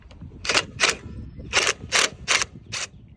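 Short bursts from an impact wrench loosening bolts on a BadBoy Revolt SD mower chute, about six rapid hammering rattles in uneven pairs, loud and close, with no speech.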